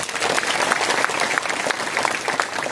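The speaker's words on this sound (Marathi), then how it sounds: "शुभम महाराजांकरता एकदा जोरदार टाळ्या." Dense, loud applause from a large audience honouring Acharya Dr. Shubham Maharaj Kandekar at a religious gathering, steady rapid clapping throughout with no speech over it.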